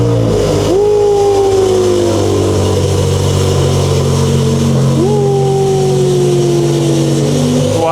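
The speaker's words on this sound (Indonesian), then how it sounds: "Cold Start E60 M5" A BMW E60 M5 V10 engine on a cold start settles into a loud, steady high idle with a deep drone, and two rising-then-falling pitch sweeps from the engine run throughout, with no voices.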